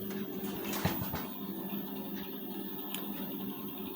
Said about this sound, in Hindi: इधर भी टाँकी बांध के सिलाई चलाएंगे।